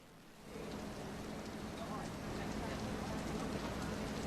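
Rain falls steadily outdoors at a Caricom Day ceremony, a broad, even hiss of drops on surfaces that swells slightly after the first half-second and holds constant.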